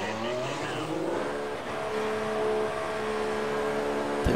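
An F1 car in the F1 2014 racing game, its engine holding a steady high whine as the tyres squeal and slide for several seconds, loud and close.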